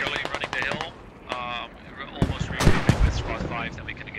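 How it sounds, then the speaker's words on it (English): Mortar rounds thud and burst in a SquadOps military game match, a string of sharp impacts and rumbling blasts layered with radio chatter and overlapping voices. "Point blank mortars."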